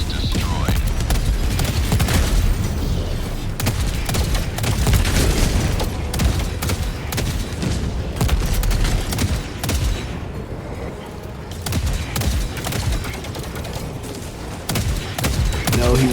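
Sentry turret gunfire in Helldivers 2 fighting automatons, a dense loud stream of rapid shots and booms with scattered bursts running the whole time, mixed with game effects and occasional voices.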